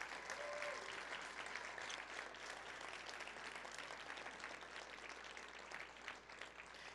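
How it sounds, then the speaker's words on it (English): A youth conference audience of students from sixth grade through the class of 2019 gives sustained applause, a dense, even patter of many hands clapping heard from a distance at low level, with no speech over it. "A big round of applause to all of you."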